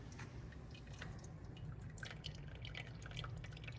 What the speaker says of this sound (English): You can hear it still draining liquid off.